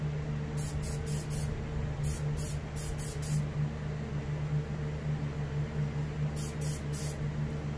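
An airbrush turned down low hisses in short bursts while painting fine details on a muskie taxidermy mount, the clustered spray pulses standing over a steady low compressor hum, close and fairly quiet.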